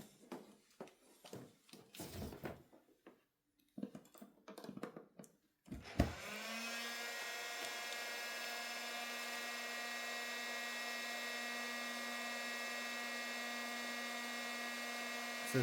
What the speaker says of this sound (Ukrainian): далі, дивіться, включаємо технічний фен